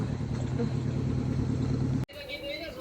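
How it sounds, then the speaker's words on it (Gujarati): A car pulling up with friends, a steady low engine rumble under nearby chatter that cuts off abruptly near the end, followed by a quieter scene with a tonal hum. "આપણા ભાઈબંધુ ગાડી લઈને આવી ગયા"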